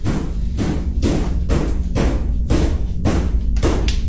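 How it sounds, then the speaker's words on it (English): Repeated loud, close thuds of banging on walls, about seven heavy booming knocks at a steady, roughly half-second rhythm, each with a dull low-end impact and short ring. "Stop banging on my walls."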